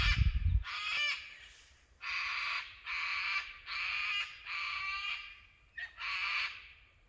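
Harsh raucous calls from a bird perched up in a tree roughly 100 metres off along the Grampians and Great Ocean Road route, repeated in about seven loud bursts, each lasting around half a second, with a low thump at the start.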